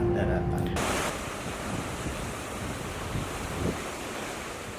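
High ocean waves on the Balikpapan coast produce a steady broadband wash of surf, with wind rumbling against the microphone throughout and one brief swell of louder crashing water near the end.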